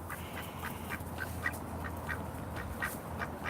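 Ducks quack repeatedly in short, uneven bursts at moderate distance over a soft outdoor background, with no voices present.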